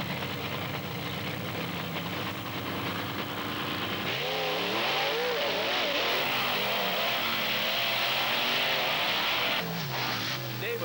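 Drag racing cars at Wildwood, New Jersey in 1995 launching off the line side by side, with engines roaring up and revving hard, loud and continuous, over a crowd and announcer's voice.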